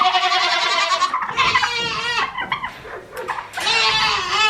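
Farm goats bleat nearby in a string of wavering, nasal cries that overlap and trade off, one after another with brief pauses, a faint dog-like yelp mixed in.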